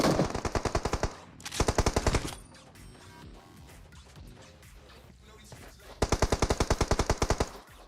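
Rapid automatic gunfire from a PUBG Mobile-style battle royale scrim match comes in loud, close bursts, with a long burst at the start and another near the end. Quieter shots and game noise fill the gap between them.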